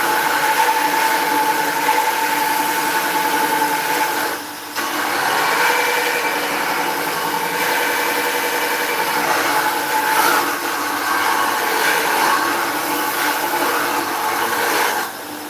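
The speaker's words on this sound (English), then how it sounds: "it's just like a glorified belt sander" A belt sander sharpens a woodturning tool with a steady motor whine and grinding hiss, close and loud, dipping briefly once partway through.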